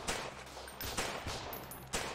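Pistol fire in the video game Freeman: Guerrilla Warfare comes as four loud, close, reverberant shots at uneven intervals over a short stretch.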